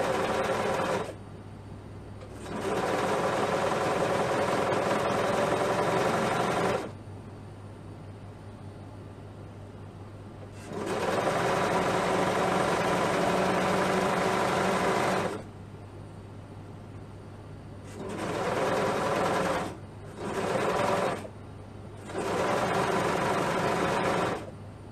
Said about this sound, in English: I will just use the sewing machine to show you how it looks